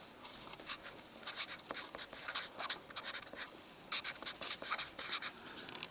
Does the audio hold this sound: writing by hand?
yes